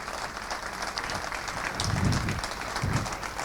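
Audience applauding Jean-Yves at the closing session of a conference: a continuous, fairly dense wash of clapping, steady throughout, with a couple of low thumps or murmurs rising beneath it midway.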